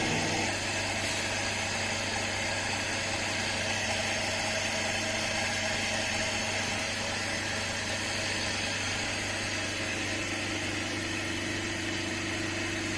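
A torsion testing machine twisting a material sample in a lab, giving a steady motor hum with a constant low drone and faint high whine that runs evenly throughout, no voices.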